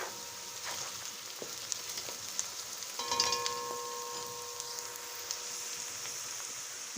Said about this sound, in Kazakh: Енді міне пиязымыз бен сәбізімізді қуырып жатырмыз жақсылап.